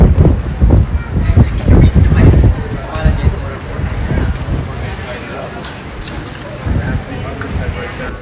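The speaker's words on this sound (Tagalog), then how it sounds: "Sobrang hangin dito, oh. Ayun, ang hangin-hangin, oh." Strong gusting wind sweeps across an outdoor memorial site at Pearl Harbor, loud buffeting rumbles hitting the microphone in waves with people talking nearby.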